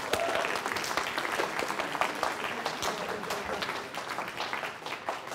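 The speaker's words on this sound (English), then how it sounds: "Let's big round of applause for all of them." An audience at a talk with a magician breaks into lively, dense applause, with many overlapping claps that are loudest at the start and ease off slightly toward the end.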